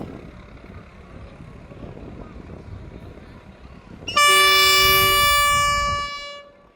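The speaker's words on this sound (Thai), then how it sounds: "มันก็น่ากลัวอยู่นะเสียงวีดเนี่ย" Train 439 sounds a loud, sustained horn-like whistle as it departs, cutting in abruptly over rumbling ambient noise and holding for about two seconds before fading.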